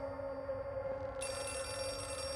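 An in-game telephone rings in the horror video game Outlast 2, a quiet electronic ring that sits under a low ambient background drone with no talking.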